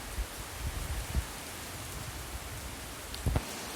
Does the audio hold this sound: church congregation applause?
no